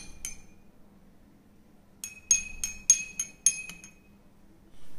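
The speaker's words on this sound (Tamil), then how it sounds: "இப்போ இதை நல்லா கலந்து விட்டுக்கலாம்." A spoon clinks sharply against a glass while rose milk is stirred, a few bright taps followed by a quick run of rapid clinks, close and fairly quiet against a silent background.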